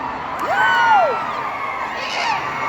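A convention audience at a Smallville panel with Erica Durance and Tom Welling performs the vaia cearense, a Ceará-style mock boo, as a sustained roar of massed voices with swooping high whoops that rise and fall through it.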